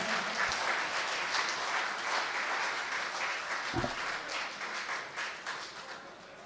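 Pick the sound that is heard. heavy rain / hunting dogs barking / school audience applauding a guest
school audience applauding a guest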